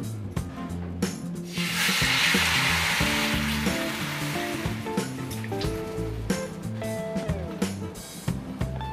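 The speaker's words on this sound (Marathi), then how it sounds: "आता यावरती आपण साजूक तूप घालूया" Homemade ghee spreading over a preheated iron griddle, a bright hiss swelling in after a second and settling into a steady sizzle, close, with scraping and tapping knocks and soft background music beneath.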